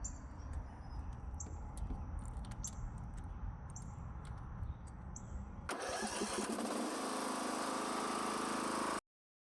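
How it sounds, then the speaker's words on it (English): A Craftsman 42-inch lawn tractor engine set to full choke starts abruptly partway through and keeps running loudly and steadily, after an earlier stretch of low mechanical rumble and faint repeated clicks. "The tractor started immediately on the first crank."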